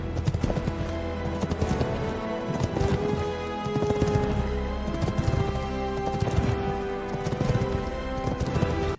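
Horse hooves clip-clop in an AI-generated Seedance video of a person riding a horse, a fairly close, loud run of uneven hoofbeats over a busy backdrop, with no one talking.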